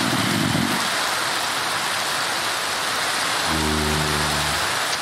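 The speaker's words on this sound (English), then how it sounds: "Also, because it's raining." Steady rain hissing across the whole span in Minecraft SevTech Ages, with a soft low hum appearing briefly at the start and again near the end.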